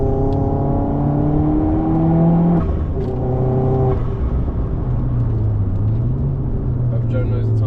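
Honda Civic Type R FN2 with a swapped K24 engine revving hard on a race track at Bedford Autodrome, a steady loud in-car engine drone with rising and shifting pitch as gears change.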